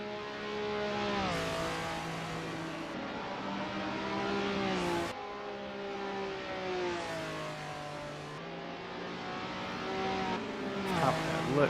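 Race cars lap the Autopolis circuit in a racing video game, engines droning and shifting pitch as they rev, upshift and pass, with a continuous close motor roar throughout.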